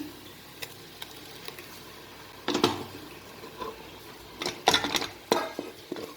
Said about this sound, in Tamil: கொஞ்சம் பச்சை வாசனை போடுறது வரை கிளறி விட்டுக்கிடுங்க